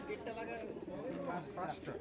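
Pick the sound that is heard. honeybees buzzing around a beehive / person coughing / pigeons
pigeons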